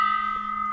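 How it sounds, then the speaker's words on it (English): A small hand bell nicknamed the Titanic bell, kept in a bargain shop, gives a steady sustained metallic ring that holds at an even level throughout, with no voices. "Still got the Titanic bell."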